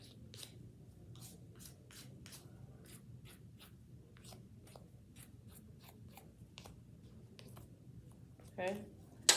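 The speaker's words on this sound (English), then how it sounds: "I'm going to hit the top to file it down" An acrylic nail is filed down across its top surface with steady, quiet rasping strokes in a regular back-and-forth rhythm, close up, ending in a louder knock.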